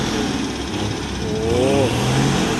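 A bus engine revs during servicing in a regional terminal parking area in Makassar, a loud, sustained drone that climbs in pitch midway and settles lower, heard from nearby.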